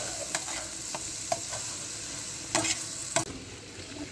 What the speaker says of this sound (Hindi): तो अभी चिकन को अच्छी तरह से भून लेंगे हम।